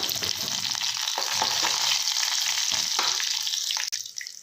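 Mustard seeds sputter and pop in hot oil over a steady, loud sizzle for peanut chutney tempering, with sharp crackles scattered throughout.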